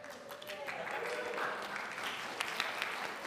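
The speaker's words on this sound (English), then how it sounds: "it is so easy to get applause from you guys" Applause from a lecture-hall audience at a university lecture event, a moderately loud, continuous patter of many hands with faint murmuring beneath and a few sharper claps near the end.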